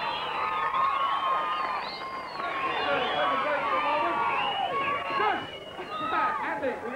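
An audience cheers for BMX rider Mike Parton, a lively mix of shouts, whoops and excited chatter from a crowd at moderate distance, with voices talking through it.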